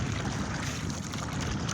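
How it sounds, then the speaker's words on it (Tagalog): Rough sea waves roll and wash in a steady, loud, windy roar that fills the short stretch without a break. "Tingnan mo mga lods yung alon oh."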